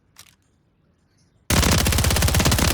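Automatic gunfire from a custom weapon build in a Call of Duty game: a brief quiet click, then a loud, rapid, evenly spaced burst of shots that runs to the end.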